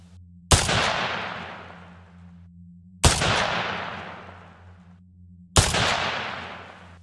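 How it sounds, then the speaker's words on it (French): Three loud gunshots ring out in a parking lot, evenly spaced a few seconds apart, each sharp crack trailing off into a long echoing decay. "3 coups de feu retentissent."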